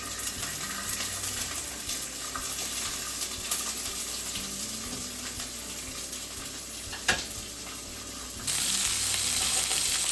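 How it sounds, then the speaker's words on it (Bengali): Chopped garlic sizzles in a hot pan as vegetables go in, giving a continuous close crackle with a sharp clink near the seventh second and a louder, denser hiss in the final moments. "মোটামুটি ভাজা হয়ে গেছে, এরপর সমস্ত সবজিগুলো দিয়ে দেব"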